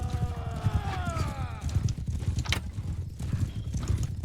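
Horses in a video game, hooves clip-clopping steadily throughout with a whinny near the start, over constant game noise and a busy low rumble.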